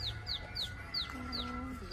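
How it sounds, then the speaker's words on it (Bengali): A small bird calls at a train station, a quick series of about six sharp, high chirps in a steady rhythm over a low, quiet hum of the station. "ঠিক টাইমে পাখিটা ডাকলো।"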